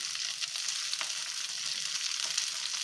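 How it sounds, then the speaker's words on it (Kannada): Onion and tomato, with coriander leaves, fry in a pan with a soft, even sizzle and occasional light stirring taps, steady and close. "ಇದು ಫ್ರೈ ಮಾಡ್ಕೊಳ್ಳೋಣ ಇದು ಈಗ ಈರುಳ್ಳಿ ಕೆಂಬಣ್ಣಿಗೆ ಬಂದಿದೆ"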